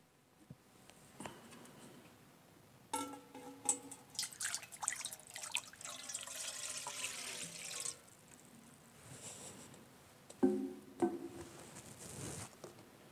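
Water runs from a tap as hands are washed in a sink, a steady splashing stream that swells for several seconds then gives way to scattered drips and light patter, with no voices.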